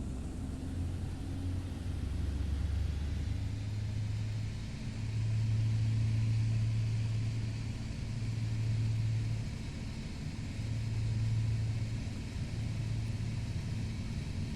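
Twin engines of a PA-34 Seneca throttle up during takeoff in Flight Simulator X, a steady droning hum that rises and falls in waves of pitch, moderately loud and continuous with no talk.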